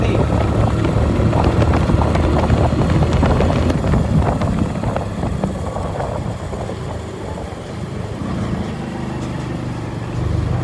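A Hero Passion Pro 2015 motorcycle rides at speed at night, its engine a steady droning roar mixed with heavy wind rush, continuous and close with no talking.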